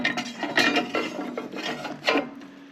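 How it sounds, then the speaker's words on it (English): Medium grinding plate being fitted into a Tramontina TE25T grinder, producing close rasping scrapes of metal parts rubbing together, with a few sharper clicks and knocks as the piece seats. "I'm going to put the medium grinder in there."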